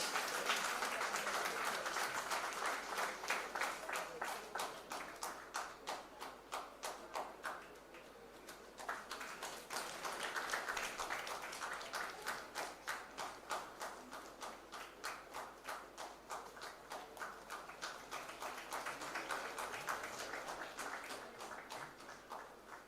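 Steady audience applause at a convocation ceremony, a dense, sustained clatter of many hands clapping at moderate distance that swells and eases slightly throughout with no speech.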